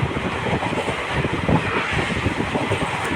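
A train runs along the Bhagirathi river in Hooghly district, a continuous broadband rumble and rattle of wheels with wind buffeting the microphone, steady and close throughout.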